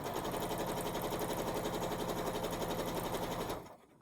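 A sewing machine runs fast and steady through quilt layers, a dense rapid chatter held for several seconds before it stops abruptly near the end.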